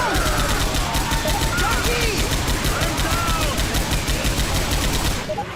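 Rapid, steady automatic gunfire in Left 4 Dead 2 rattles nonstop, loud and close, with voices and other game sounds mixed underneath.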